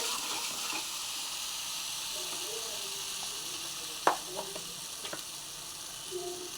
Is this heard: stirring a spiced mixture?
yes